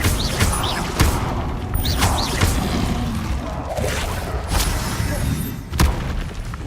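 Incendio fire spells cast in Hogwarts Legacy, sounding as whooshing bursts and booming impacts inside a dense, loud battle mix with several sharp hits.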